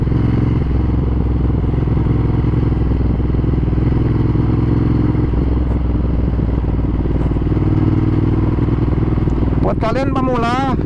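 A modified 2015 Ducati Monster 1200S on the move roars loud and constant, with engine rumble and wind rush throughout, then a brief warbling squeal near the end.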